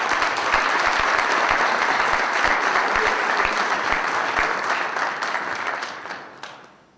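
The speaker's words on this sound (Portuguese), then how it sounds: "por favor, uma salva de palmas ao JS" An audience applauds steadily for about six seconds in welcome at an award ceremony, the clapping fading out near the end with no talking over it.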